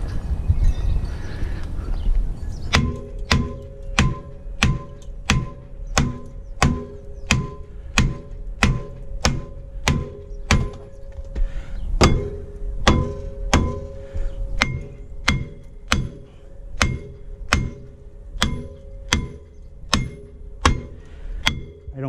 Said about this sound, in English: I'm gonna get a lump hammer and give it a whack.